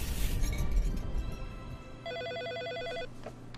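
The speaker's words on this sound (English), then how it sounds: "Answer my phone." A telephone rings in the Dream Day Wedding video game, set in an Italian villa: one burst of a repeating electronic trill, clear and mid-loud, heard after a stretch of background game sound with no voices.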